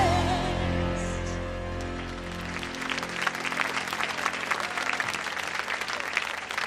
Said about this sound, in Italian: con l'applauso del pubblico